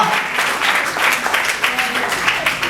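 Applause from an audience at a live comedy show, a steady wash of clapping sustained throughout, with some voices mixed into the crowd noise.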